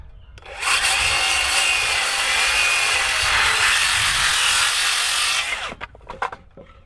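A composite deck stair stringer being cut square with a power saw: one steady, loud cutting roar lasting about five seconds, close by, then spinning down with a few faint clatters and no speech.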